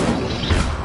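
A single short, loud crash of the Incendio fire spell in the Hogwarts Legacy video game, a blunt smashing burst lasting under a second.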